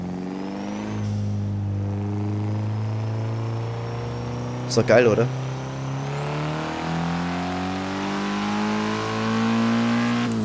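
A car engine in Forza Horizon 3, from the AlpineStars Car Pack, drones steadily and revs up and down, with a short sharp burst midway, while someone talks over it.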